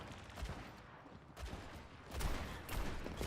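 Continuous gunfire from a first-person shooter game, dense overlapping shots that build into heavier bursts toward the end, loud and without voices.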